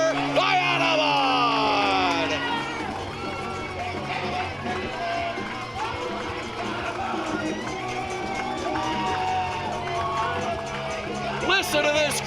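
A baseball crowd roars in sustained cheering and whooping after an extra-innings two-run home run by the Barrie Baycats in an IBL Championship Finals game, loud and continuous across the clip, with a commentator talking over it.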